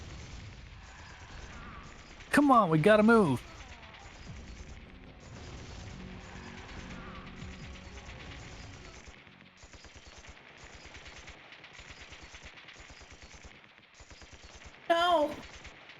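Video game gunfire and explosions burst out in two loud clusters, one early and a shorter one near the end, over steady game music, with a character's voice speaking in between.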